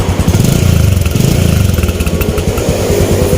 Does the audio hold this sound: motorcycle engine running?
yes